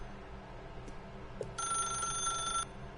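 A telephone in The Stanley Parable video game rings once with a bright, steady electronic bell tone lasting about a second, heard alone over a low background hum.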